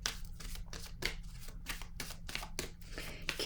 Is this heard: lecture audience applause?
no